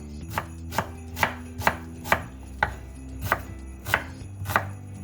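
A knife chops onion on a cutting board in about eleven sharp, evenly spaced strikes, close and clear, with no talking.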